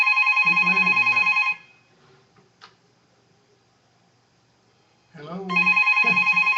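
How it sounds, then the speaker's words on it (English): A telephone rings in loud electronic bursts close by, cutting off into near silence with faint clicks and then starting up again; a voice speaks briefly under the ringing. "Just keep it ringing, people, till we figure out how to answer the phone."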